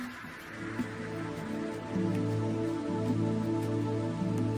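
Steady rain in a Thai rainforest, a dense continuous patter on foliage and surfaces that grows slightly heavier partway through, with faint drips and a low constant background hum.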